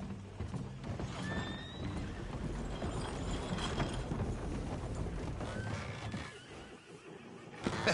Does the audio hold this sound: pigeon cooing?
no